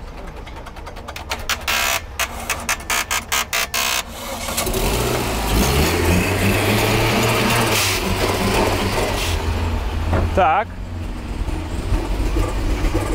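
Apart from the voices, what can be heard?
Daewoo Matiz engine with new turbo running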